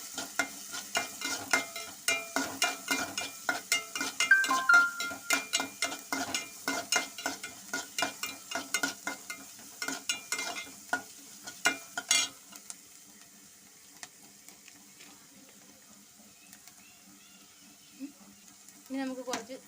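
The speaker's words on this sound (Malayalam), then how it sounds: "ഫ്ലെയിം ശകലം കൂട്ടി വെച്ച് നമുക്കൊന്ന് വഴറ്റിയെടുക്കാം" Jackfruit seed and spinach thoran sautéing in a pan over a raised flame, with repeated scraping stirs and a soft sizzle for about twelve seconds, then quieter frying with an occasional clink.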